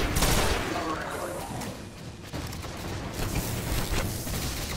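Sustained gunfire in a Destiny firefight involving Cabal and Vex, a dense, rolling barrage with sharp loud bursts at the start and scattered shots later, as a voice speaks briefly.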